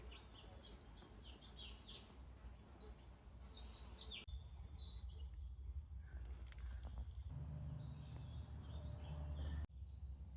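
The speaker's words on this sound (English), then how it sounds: "The woods are lush, and they're filled with birds chirping throughout the day." Birds calling in lush summer woods, with scattered high chirps and tweets near and far across the first half, thinning out later under a steadily rising low rumble like a passing vehicle.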